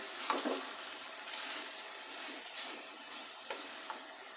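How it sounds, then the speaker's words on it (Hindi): Boiled minced meat (keema) fries in a pan of spices with a steady bright sizzle and a few soft stirring scrapes, close and continuous. "अब मैं इसमें डालूंगी बॉयल किया हुआ कीमा, और कीमे की भी भुनाई करनी है।"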